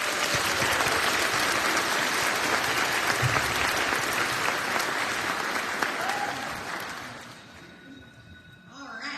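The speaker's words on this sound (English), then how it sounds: "Let's give them a round of applause." An audience at an elementary school academic awards ceremony claps in steady, dense applause that fills the room, then thins and fades toward the end.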